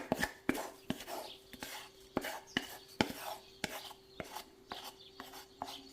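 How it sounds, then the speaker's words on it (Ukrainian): Milk and bread starter being mixed in a bowl for a sweet Easter dough, heard as quiet, close, rhythmic taps and scrapes repeating steadily. "Розмішаю все файно."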